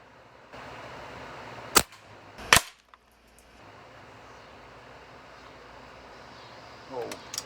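A regulated Beeman Raider air rifle fired at targets at 25 yards: two sharp, close cracks about a second apart over faint background hum, then a softer thud near the end.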